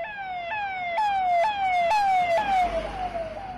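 A police-style emergency siren wails in repeated falling sweeps, loud and near, cycling steadily about twice a second with faint traffic rumble underneath.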